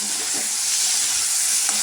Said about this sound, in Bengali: আলু ভাজা করতে বসিয়ে দিচ্ছি